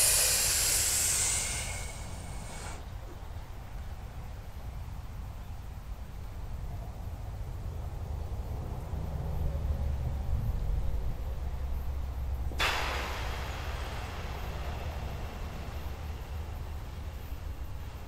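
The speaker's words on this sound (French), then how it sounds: "Inspire bien pendant à peu près 3-4 secondes, mais à plein poumon." A full-lung breathing exercise: a long, steady airy inhale, held breath, then a slow hissing exhale, with a breathy rush returning partway through, fairly close and without talk.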